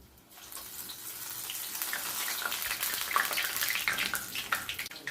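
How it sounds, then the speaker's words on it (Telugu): Batter-dipped eggplant fritters sizzle in hot frying oil over a medium gas flame, a steady, close hiss that swells quickly and holds, with no voices. "ఇలా వంకాయని ఇలా డిప్ చేసుకొని ఆయిల్లో వేసుకోవాలి"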